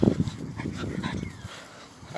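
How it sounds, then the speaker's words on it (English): A big dog barks and whimpers close by, a burst of deep barks at the start giving way to softer whines and yips that fade toward the end. "Oi, big ass dog."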